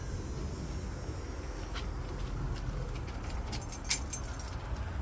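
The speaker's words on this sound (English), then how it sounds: "Grab the keys and go to the trunk." Car keys for a 1965 Ford Mustang jangle in a few light, quiet bursts of metallic clinks against a steady low background hum.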